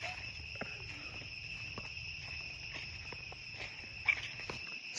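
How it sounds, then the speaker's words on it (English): Cicadas drone steadily in the trees of a quiet Cambodian temple site, a sustained high, shrill buzz holding throughout, with faint scattered ticks and soft low rumble underneath. "Cicadas, that's what they're called."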